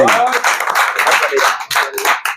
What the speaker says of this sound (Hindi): सर के लिए एक बार जोर से तालियां।